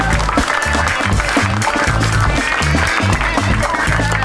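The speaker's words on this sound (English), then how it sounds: "Please give a huge round of applause for Shamik Chakravarti." Audience applause for a panelist on a comedy game show, loud continuous clapping from a studio crowd over a rhythmic music bed, steady throughout.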